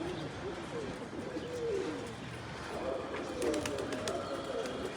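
Racing pigeons cooing at the loft after a race: soft, repeated low coos over steady outdoor background noise.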